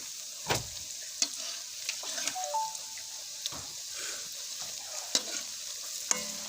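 Pakoras, lachha-style fritters, fry in hot oil as their second side cooks, with a steady broadband sizzle throughout and occasional sharp stirring or spatula clicks rising above it.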